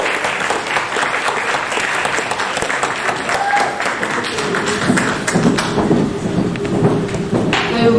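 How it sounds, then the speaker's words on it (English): A small indoor audience at a poetry and book publishing event claps warmly, a dense burst of applause that holds steady for several seconds with a few scattered taps and faint voices. "Another round of applause."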